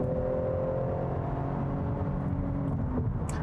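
A 2019 Buick Regal GS sport sedan with all-wheel drive accelerates while passing, its engine hum steady and rising slightly, heard as a continuous close whir from inside the car.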